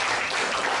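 Audience applause at a board installation ceremony in Lampung Tengah: a brief dense wash of clapping from many hands, steady and fairly loud throughout.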